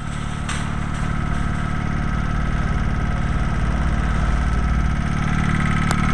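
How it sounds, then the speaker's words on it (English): A carburetted motorcycle engine idles after a rough start, a steady, close, continuous rumble with slight unevenness and no talking. "Carburetors make the best sound with a lousy start."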